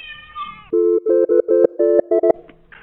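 A cat wandering around a motel property gives one loud, drawn-out meow, followed by a run of electronic phone tones and beeps.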